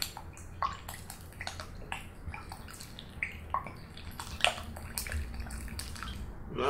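Water soaks through the soil of a potted Tradescantia tricolor, the pink inch plant, with a steady close trickle broken by scattered drips and small wet pops throughout.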